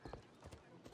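Horse hooves clip-clopping in the video game Assassin's Creed Odyssey, a brief run of close hoof beats with someone talking over them.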